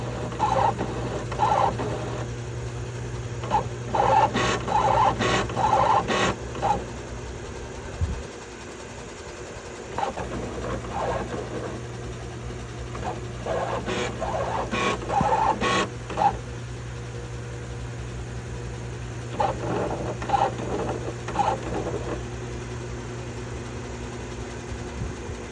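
An HP inkjet printer readjusts after an ink cartridge change, giving a steady mechanical hum with repeated bursts of whirring and clicking carriage movements nearby, pausing briefly partway through.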